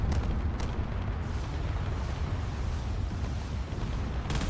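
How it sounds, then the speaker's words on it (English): Massive, continuous explosions rumble from a base under missile attack in a drone combat video game, a dense roaring wall of blasts with sharper bursts near the start and end. "Massive explosions coming out of the base at this point."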